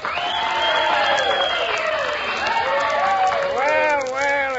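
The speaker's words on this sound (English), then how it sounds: "Your applause will determine the winner." A studio audience at a 1947 radio comedy show applauds a contestant, steady dense clapping mixed with whistles and rising, sliding voices throughout, loud and close.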